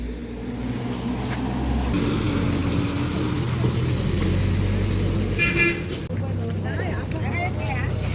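A red state-transport bus pulls in at ten o'clock with a steady engine rumble and a couple of short horn toots near the end, while people talk over the traffic noise.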